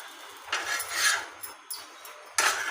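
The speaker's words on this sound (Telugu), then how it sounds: "ఇప్పుడైతే దీన్ని ప్లేట్లో తీసుకుందాం." Fried bread set down on a plate, several short clinks and knocks of crockery and utensils in a quiet kitchen, with brief pauses between them and no speech.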